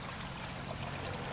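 Water trickles and flows down a small garden pond stream fed by pump and filtration tubes, a soft, steady, close babbling wash with no voices over it.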